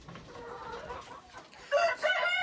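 Chickens of the Mardi and RZ breeds cluck and call in a farm pen, with a steady mix of bird voices that grows louder and brighter toward the end.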